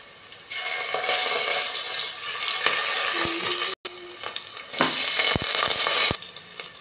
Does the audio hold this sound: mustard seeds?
yes